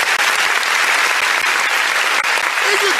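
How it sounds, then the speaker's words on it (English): Loud, dense applause from a crowd at a youth gathering with Peter Obi, a close, continuous roar of many hands clapping that holds steady throughout, with no speech over it. "A round of applause, ladies and gentlemen."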